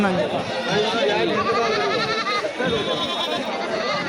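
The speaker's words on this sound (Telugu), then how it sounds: "పోతులు మేకలన్నీ కూడా వస్తాయి" Goats and rams bleat repeatedly at a busy Kadiri livestock market in Andhra Pradesh, their wavering calls overlapping amid dense crowd chatter and people talking nearby.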